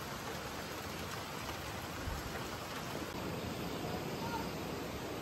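Steady, soft rain hiss at a family campsite fills the whole stretch, an even wash of falling drops with no voices and no pauses.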